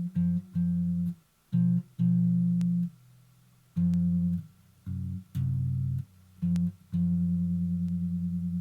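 Pairs of notes sound a major seventh apart, played in short separate bursts and then in longer held tones, clean and without talking.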